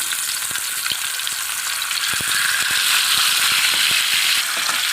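Fish in masala coating frying on a dosa griddle, giving a loud, continuous sizzle with scattered sharp crackles and pops throughout and no voices.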